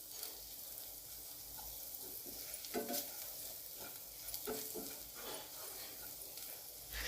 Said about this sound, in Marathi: आणि हळद टाकून घेणार आहे. याला पण आपण 2 मिनिटं परतून घेऊया. सगळं एकजीव करूया आपण ही.